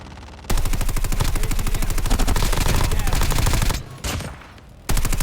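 Rapid automatic gunfire in the mobile game Call of Duty Mobile. A loud, sustained machine-gun burst runs for several seconds, breaks off briefly, then resumes.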